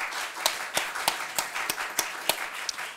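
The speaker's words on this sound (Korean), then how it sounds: "우리 앞으로 모실 때 박수로 맞이하도록 하겠습니다" A small group clapping to welcome special song performers at a church gathering, a short run of evenly spaced sharp claps heard close up, fairly quiet and with no talk over them.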